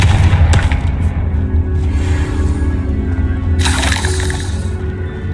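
A Confringo spell blast fires in the Hogwarts Legacy video game, loud and booming with sharp bursts near the start and a crackling surge late on, all over a heavy low rumble.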